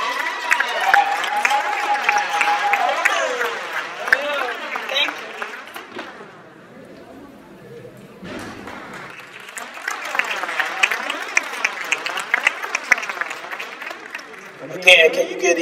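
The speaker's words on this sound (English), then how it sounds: "Can you give these young, wonderful people another round of applause?" Audience applause at a December graduation ceremony, a long, steady wash of clapping that dips briefly midway before swelling again, with talk or crowd voices mixed in.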